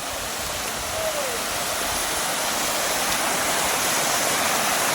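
Waterfall in the Kolli Hills pouring into a deep rock-worn plunge pool, a steady broadband roar of falling water that stays loud and constant throughout with no voices.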